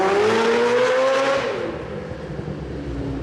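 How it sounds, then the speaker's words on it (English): A 4-rotor Mazda RX-7 engine revs hard and close, its pitch climbing quickly as the throttle opens, then dropping sharply as it falls back to a lower, rougher idle. "when you hit the throttle, it revs faster than some superbikes"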